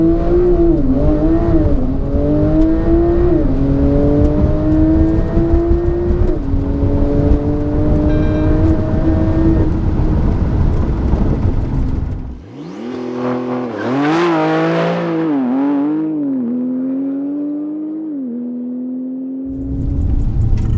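An 800 bhp Porsche 911 Turbo S makes a quarter-mile drag run, with loud engine howls rising through repeated gear shifts. After a brief drop, a further surge of revving climbs again, close and powerful.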